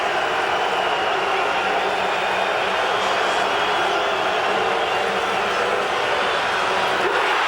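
Loud crowd at a 2005 CFL football game in a stadium, Calgary Stampeders visiting the Hamilton Tiger-Cats, a steady dense roar that fills the whole stretch without letting up.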